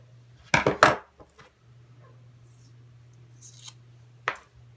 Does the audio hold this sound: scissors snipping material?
yes